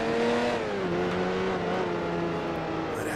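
Sports race car engine in the Grand Prix Legends racing game, a steady buzzing drone with pitch dipping and wavering as the car slides sideways through a corner.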